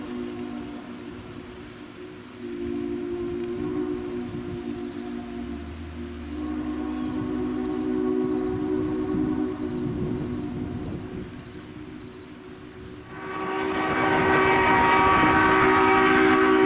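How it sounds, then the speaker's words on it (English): Steam locomotive C&O 1309 rumbles past through hills and mountains with a steady engine drone and clattering wheels, building in loudness, then a long horn blast sounds near the end. "get a beautiful shot of the train as it passes through the beautiful hills and mountains along the line"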